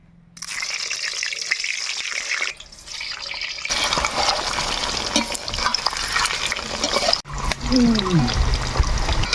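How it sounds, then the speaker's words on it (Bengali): Potatoes fry in oil for mutton biryani, a loud crackling sizzle that starts abruptly and builds, with stirring scrapes and brief breaks as pieces go in, and a person speaks over it. "ওই তেলতে আমরা আলুগুলো ভাজি নিব"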